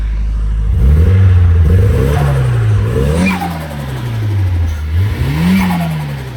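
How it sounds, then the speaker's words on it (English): A car engine revs loudly up and down several times, a throaty rising and falling roar, close by with no talking. "I'm gonna give it one little rev"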